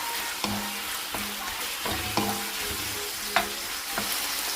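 Kikiam fries in a pan with a steady, close sizzle and occasional stirring scrapes and taps throughout.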